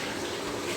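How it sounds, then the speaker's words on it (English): Water gushes steadily from a Glacier Bay bathtub spout plumbed with plastic PEX piping, a loud, even, continuous rush close by. "the water rolls along just fine"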